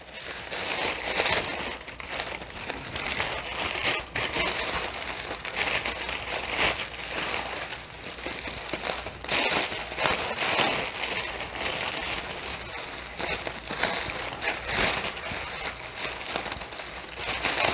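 Packaging around a small lamp bulb being unwrapped, a continuous close crinkling and rustling of paper and plastic with irregular crackles, no talking.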